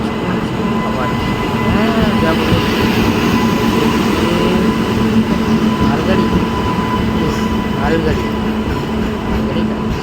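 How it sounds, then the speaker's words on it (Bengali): A train pulls into a station platform on the Deshpran to Howrah route, making a loud, continuous rumble with a steady tonal whine that holds close and constant. "কখন ট্রেন আসবে সেইটাই ভাবছি ট্রেন আসছে"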